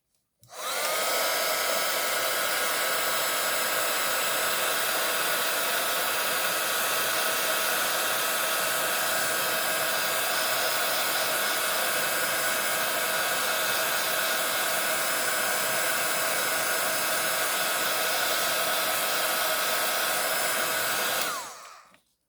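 A heat embossing tool blows a steady, loud stream of hot air over a snowball craft ornament, running continuously with no pauses from start to finish.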